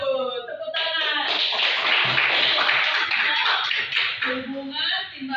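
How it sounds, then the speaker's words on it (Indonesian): Schoolchildren in a fifth-grade classroom clap together in a dense, lively burst of about four seconds, with voices of children and a teacher around it. "Tepuk tangan."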